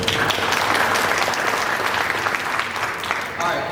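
An audience at a university State of the Student address breaks into loud, dense clapping for about four seconds, a crowd of hands blending into a steady wash, with a speaker's voice mixed in.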